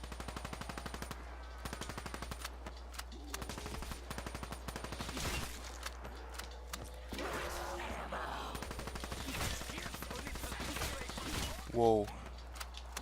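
Rapid automatic gunfire at zombies in the video game Black Ops 3 rattles on continuously at low level, with bursts and impacts, while people talk over it.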